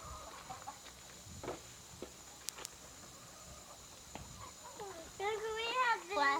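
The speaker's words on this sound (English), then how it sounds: "There's a chicken goes out." A chicken clucks on a farm at Grant's Farm in 1983, with a quiet, scattered background before a burst of close clucking calls near the end, and people talking faintly.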